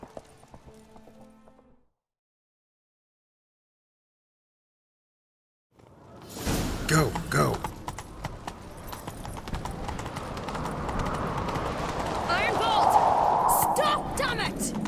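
In The Witcher 3 game, a short stretch of voice gives way to silence, then a horse starts galloping, its hooves clip-clopping in a quick, driving rhythm that builds louder under brief shouted speech.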